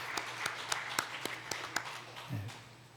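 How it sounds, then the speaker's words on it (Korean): Faint, sparse applause from a small church congregation during a service, with claps landing in a loose steady rhythm before fading out. "이제 인사하고 들어가실 때 우리 박수로 축복하겠습니다"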